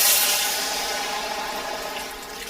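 Water poured into a pan of roasting rice, a loud rushing hiss that bursts in at the start and then settles into a steady, slowly fading seethe.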